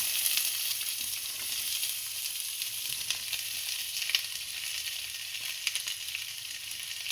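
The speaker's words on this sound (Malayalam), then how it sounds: "ഉള്ളി ഇട്ട് കൊടുക്കട്ടെ കടുക് പൊട്ടി" Onion sizzling in hot oil with popped mustard seeds for a kingfish curry, a steady crackling fry heard close up and alone with no voices.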